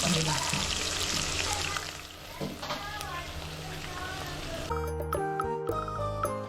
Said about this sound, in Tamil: அதுக்கு முதல்ல ஒரு பேன் வச்சுட்டு அதில் ஆயில் ஊற்றிட்டு